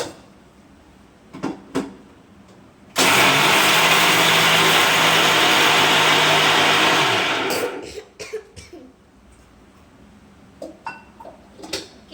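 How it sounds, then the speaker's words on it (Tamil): A mixer grinder grinding chutney roars loudly for about five seconds, a steady whirring blast that starts abruptly and fades down, with quiet kitchen knocks before and after. "இப்போ நாம சட்னி அரைச்சு எடுத்துக்கலாம்."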